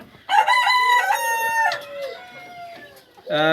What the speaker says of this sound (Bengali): আমি সেটাই করে নিছি, যার কারণে সব মুরগিগুলো এখন পানি খাইতেছে আর কি।